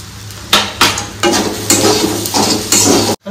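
Dalia pulao with cashews and raisins frying in a little oil, no ghee or butter, in a pan: close, loud scrapes and knocks of a spatula stirring at an uneven beat over a steady low hiss.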